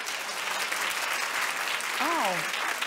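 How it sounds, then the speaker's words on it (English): Studio audience clapping on a talk show, a dense steady wash of applause throughout, with a brief vocal exclamation rising over it near the end. "Clap if you would."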